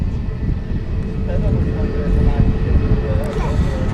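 An easyJet Airbus A320neo rolls at high speed down the runway at Manchester Airport, its engine roar a dense low rumble with a faint whine, heard steady and moderately close beneath a talking voice.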